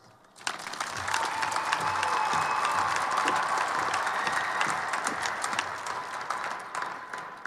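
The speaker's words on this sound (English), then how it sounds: "Above all else, you owe yourselves a round of applause." Applause from a large graduation crowd at a 2013 high school ceremony, starting abruptly and holding steady as a dense wash of clapping for several seconds before easing slightly, with faint cheers mixed in.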